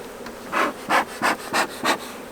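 Bees robbing honey at a long hive: a hum rises and falls in five quick, close swells of buzzing over a faint steady drone.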